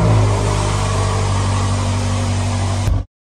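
A rebuilt, previously crashed BMW M5 drives along with a steady, loud engine drone and low rumble, with the sound cutting off abruptly at the end; no talk.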